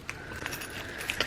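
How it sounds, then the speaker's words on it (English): A set of car keys jangles in a short, close metallic rattle as it is set down, with a few bright clinks at the end. "I'm going to put my keys right here."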